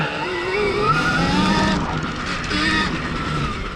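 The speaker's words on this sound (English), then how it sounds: "See, I'm just sliding everywhere on this tire, just locking her up." Stark Varg EX electric dirt bike tire sliding and skidding under locked brakes on an offroad trail, a steady loud scrubbing roar with shifting tonal whine throughout.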